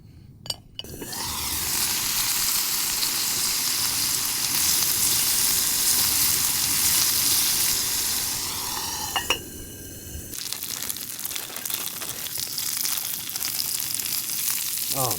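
Bacon sizzling alongside steak on an outdoor cooking setup, a loud steady fry hiss that fills most of the stretch, with a few clinks near the start and a quieter crackle after a brief break.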